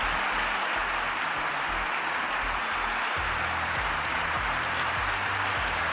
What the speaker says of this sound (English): Look at Donald Trump giving himself a round of applause.